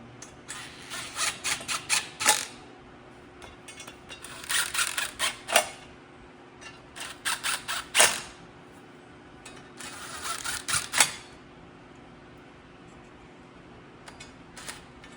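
Bolts being tightened on a Holley front runner setup for an LS motor, heard as bursts of ratcheting and metallic scraping that come in groups with pauses between them, close by and fairly clear.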